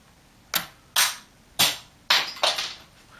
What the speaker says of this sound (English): And this is a spring-loaded missile launcher.